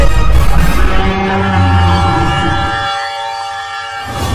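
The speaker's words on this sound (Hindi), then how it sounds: "ट्रेन आ रही है। अभी अभी वो सीटी मारी।" An approaching train sounds its horn in loud, sustained tones over rumbling rail noise, then the blast fades near the end.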